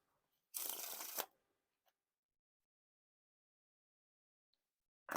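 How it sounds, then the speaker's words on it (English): A single brisk riffle and bridge of a Howler Bros deck by Theory11 gives a close, crisp card flutter lasting under a second, followed by near silence and the start of another shuffle at the very end. "the riffle shuffles and bridge shuffles feel pretty smooth so far."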